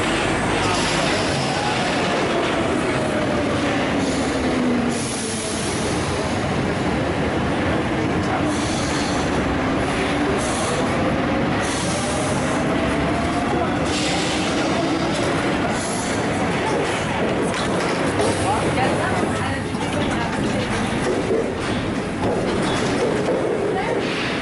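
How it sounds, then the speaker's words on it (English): A Paris metro train with manually opened doors rumbling steadily along the tracks, loud and continuous, with rising whines and squeals from the wheels and voices talking over it. "you can actually open them while the train is still moving"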